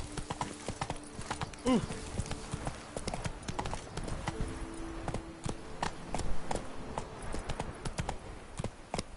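In the video game The Witcher 3, the horse Roach gallops. Quick, rhythmic hoofbeats clatter steadily over a low game-world background, with a brief voiced cry near the start.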